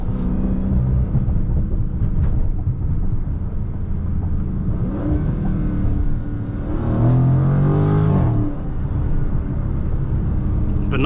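A supercharged Dodge Charger Scat Pack Widebody accelerates hard, its engine note rising in a loud, close sweep over a constant rumble and wind noise, peaking near the end before easing off.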